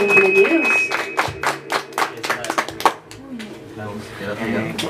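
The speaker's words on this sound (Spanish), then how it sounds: "Fuerte el aplauso, por favor, para nuestra pareja de cumpleaños." A small party crowd gives sparse, uneven applause for a birthday couple at a mariachi celebration, a handful of sharp claps over the first few seconds mixed with someone talking and then fading to quiet murmur.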